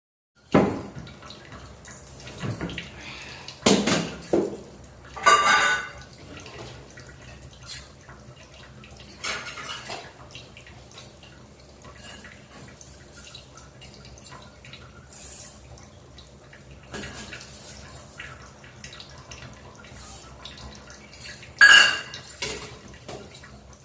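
Dal being rinsed in water at a kitchen sink, with intermittent splashes, sloshing and running-water bursts, light drips and clinks of a vessel between quieter stretches, close by.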